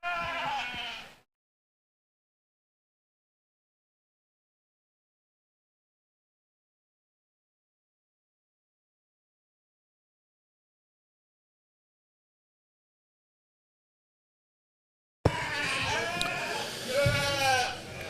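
Dorper ewes at a national sheep show, a brief wavering bleat at the start, then a long silence before another quavering bleat near the end.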